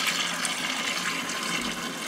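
Water gushes steadily during carpet cleaning as it is emptied out, a loud, continuous broadband rush with no talking.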